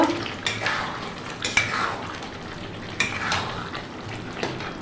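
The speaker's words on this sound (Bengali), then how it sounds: "একটু নেড়ে চেড়ে নেব" Dahi chicken with a little added sugar is stirred in a pan, with a spatula scraping the pan in a few sharp strokes over a soft, steady sizzle. Close and moderately loud, no talking.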